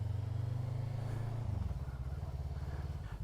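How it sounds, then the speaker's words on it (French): A Voge 500R motorcycle on its first ride idles with a rhythmic low thump, then the engine note rises as it pulls away in first gear, with the pulsing exhaust continuing close by. "Allez, c'est les premiers tours de roue."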